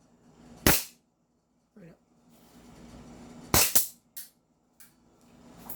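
An airsoft pistol is fired through a chronograph, giving a few sharp, loud pops spaced unevenly, one pair in quick succession, with someone speaking in between the shots.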